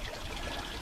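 Water flushing through a Yamaha F200 outboard engine, a soft, steady trickle and splash heard briefly and faintly without talk.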